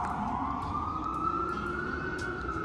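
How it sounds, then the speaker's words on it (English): New York City street traffic comes through an apartment balcony, with a steady low roar and an emergency siren wailing at a sustained pitch, moderately loud and continuous. "You could fully hear the traffic."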